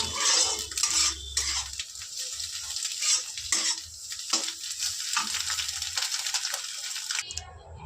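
Egg bhujia being stirred in a wok, a spatula scraping and clattering against the metal over steady oily sizzling, close and fairly loud throughout with no talk.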